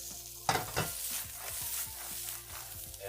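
Peanuts rattle and scrape in a pan as they are stirred and toasted, with a soft steady sizzle and repeated clicking strokes, close and fairly quiet.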